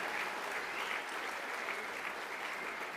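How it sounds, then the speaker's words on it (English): An awards-night crowd at the Copeland Trophy gives steady, even applause for the VFLW team, a continuous wash of clapping heard from a distance at low volume. "Let's give them a big round of applause for bringing the silverware back to the Holden Centre"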